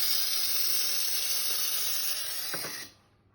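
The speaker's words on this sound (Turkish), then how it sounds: "Şimdi bu tuş bastığınız zaman bakın buradan buhar çıkıyor." A WMF coffee machine releases a steady, fairly loud hiss of steam for nearly three seconds before it cuts off abruptly into near silence.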